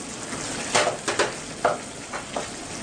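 Boiled peas stirred into an aloo matar paneer curry in a pan: a soft, continuous sizzle broken by four or five sharp, close scrapes of a spoon, with no voices.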